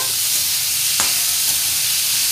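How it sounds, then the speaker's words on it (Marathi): Onions sautéing in a pan to make sukticha kalvan, a steady sizzling hiss of frying with a faint stir or clink near the one-second mark, continuous and close with no voices. "कांदा छान परतून घ्यायचा आहे, लालसर होईपर्यंत"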